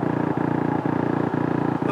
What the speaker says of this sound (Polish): Mamy tu również na wyposażeniu alarm toru jazdy